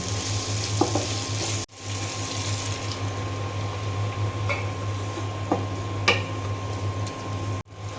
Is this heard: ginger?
yes